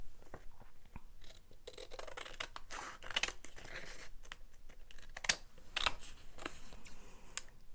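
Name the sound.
scissors cutting paper scraps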